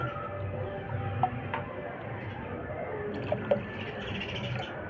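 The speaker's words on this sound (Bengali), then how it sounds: "এই বাটির দেড় বাটি আমি দিয়ে দেব জল" Water poured into a bowl holding sugar for a semolina sweet ball recipe, next to a lit gas stove: a steady, soft liquid rush with a few small drips and splashes on top.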